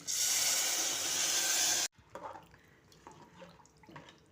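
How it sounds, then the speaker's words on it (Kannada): Water pours steadily into a pot of broken rice for khichdi for nearly two seconds, then stops, followed by a few soft clinks in a quiet room. "ಅದೇ ಬೌಲಿಂದ 6 ಬೌಲ್ ಆಗಷ್ಟು ನೀರು ಹಾಕ್ತಾಯಿದ್ದೀನಿ"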